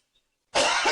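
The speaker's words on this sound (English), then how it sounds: "If y'all hear me coughing randomly, it's my allergies." A single sharp cough from a woman with allergies bursts out after a moment of silence, close and loud, trailing off raspily.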